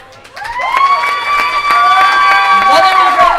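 At a speedway awards banquet, a crowd cheers and whoops for the 2014 champion, with loud, sustained overlapping shouts and calls filling the room.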